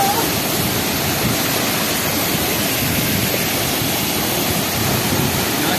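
A waterfall near McLeodganj roars close by, a dense, steady rush of falling water with no breaks, loud throughout.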